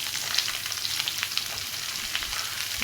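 Chopped ingredients with salt and turmeric sizzle steadily in hot oil with mustard seeds and curry leaves, a constant close frying hiss broken by small crackles.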